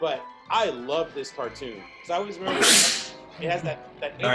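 A single sneeze bursts out briefly in the middle of casual conversation, with people talking before and after it.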